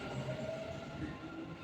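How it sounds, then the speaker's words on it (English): Inside the new Expo metro station in Dubai, a metro train rumbles steadily with a rolling clatter and a faint high whine. "This is the new metro station which was built during Expo 2020."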